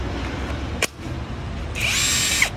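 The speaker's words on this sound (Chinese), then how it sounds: "还有一个是电动扳手" A cordless lithium-battery electric impact wrench with a hollow square shaft fires a brief burst, then runs for a longer, high-pitched whirring spell a moment later.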